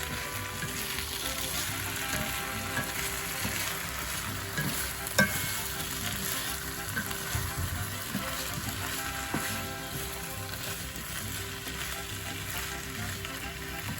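Pork chops and sliced potatoes frying in a pan, a continuous dense sizzle with occasional stirring scrapes, steady and close throughout.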